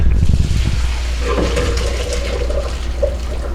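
Boiled potatoes are drained in a home kitchen while cooking Thanksgiving side dishes: a loud, steady rush of pouring water splashes close by and runs continuously throughout.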